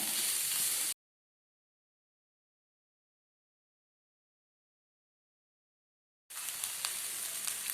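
Finely chopped beans and vegetables sizzle in a pan with a bright, steady hiss, cut off abruptly by a long stretch of total silence before the sizzling resumes.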